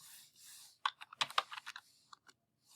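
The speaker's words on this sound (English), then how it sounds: "so let's type" A computer keyboard typed on in a quick burst of close, crisp key clicks with uneven rhythm, following a brief soft hiss and no talking.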